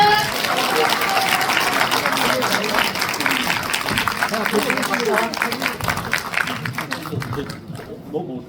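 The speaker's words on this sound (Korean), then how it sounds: "감독님께 다시 한번 박수 부탁드리겠습니다" A dense wash of audience clapping for a film director at a group documentary screening that holds steady for several seconds, then tapers off and fades near the end.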